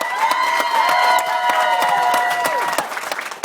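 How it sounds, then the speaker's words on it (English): Wedding guests burst into applause, a dense sustained clapping crowd heard up close, with a bright whistle-like tone sliding over it, tapering off toward the end. "let's give him a round of applause"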